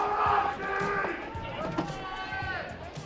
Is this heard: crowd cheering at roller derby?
yes